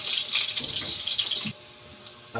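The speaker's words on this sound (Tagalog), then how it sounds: "Mainit na tong ating mantika. Lagyan natin ating bawang sibuyas." Garlic and onion hit hot cooking oil in a pan, giving a bright hissing sizzle for about a second and a half that then cuts out to quiet, ending with a short clatter.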